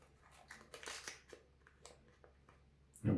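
A used safety razor blade slipped into a small paper wrapper: a series of soft papery rustles and crinkles close up, with a louder crinkle right at the end.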